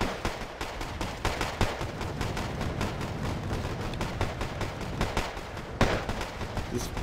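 Gunfire in Wargame Red Dragon, a 10v10 battle, rattles as a dense, continuous stream of close sharp shots with repeated bursts and occasional louder blasts, without talk.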